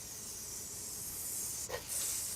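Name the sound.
bacon sizzling on a griddle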